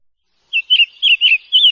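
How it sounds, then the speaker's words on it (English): A northern cardinal gives a clear, close series of four bright, whistled call notes in an uneven rhythm against a silent background. "Cardinal."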